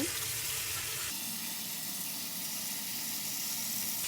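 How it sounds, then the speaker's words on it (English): Cool water runs from a kitchen sink tap in a steady, soft hiss, continuous throughout with a slight change in tone after the first second. "bring it over here to the sink, add some cool water."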